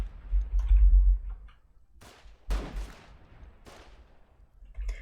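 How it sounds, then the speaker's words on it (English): Incoming gunshots in the war game Foxhole sound as scattered distant cracks and booms, a few sharp reports spaced irregularly over low rumbling, with no talk. "Lots of shots incoming."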